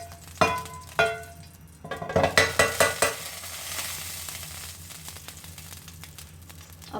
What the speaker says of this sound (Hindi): ये ज़ीरा गर्म हो रहा है।